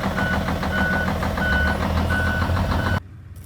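A truck engine rumbles steadily at close range under a repeating high electronic beep, then cuts off abruptly into near silence.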